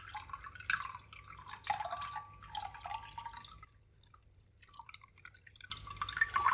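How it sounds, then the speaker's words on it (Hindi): Tamarind water strained through a sieve while cooking palak matar, with soft irregular drips and trickles of liquid falling into a bowl, fairly quiet and close, pausing briefly before resuming. "अब यहाँ पे इमली को हम छान लेंगे, पानी जो है इमली का।"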